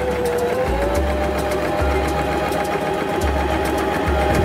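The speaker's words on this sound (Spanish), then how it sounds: "Dejando unos 10 centímetros de hilo extra, bajamos el prensatelas y realizaremos una costura para luego fruncirla." A Janome 523H sewing machine stitches a long-stitch seam, whirring steadily with a fast, even mechanical ticking of the needle, loud and close throughout.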